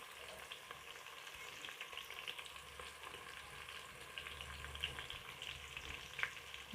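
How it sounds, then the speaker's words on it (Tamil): Onions sautéing in a pan for mutton biryani give off a steady, close sizzling hiss with occasional soft stirring sounds, continuous throughout and without voices. "இந்த வெங்காயத்தை நல்லா வதக்கி விட்டுக்கலாம்"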